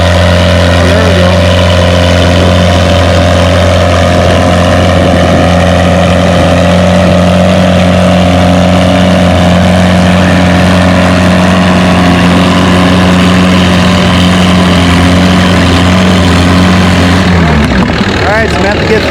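A pulling tractor at a fall tractor pull in Lynden, with one wheel spinning, roars at full throttle in a loud, sustained engine drone that cuts off abruptly near the end, an announcer talking over it.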